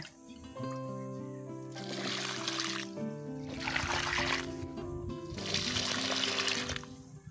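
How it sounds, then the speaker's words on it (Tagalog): Rice-wash water is poured from a basin onto garden plants in three separate bursts, each a soft splashing gush lasting about a second and a half, faint and close, with a quiet musical background between pours. "Magadilig na tayo. Ayan, isang plangganang tubig na pinaghugasan ng bigas."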